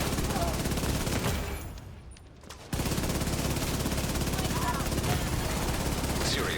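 Gunfire from a video game shooter, blind-fired in dense rapid bursts, loud and continuous except for a brief lull in the middle, with a voice talking over the shots.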